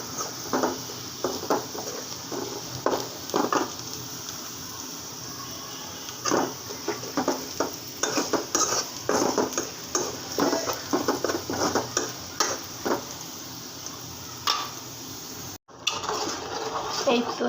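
Lentil dal with bottle gourd is tempered with panch phoron in a pan, heard as repeated clattering taps of a spoon against metal over a soft frying sizzle, continuing steadily with short pauses.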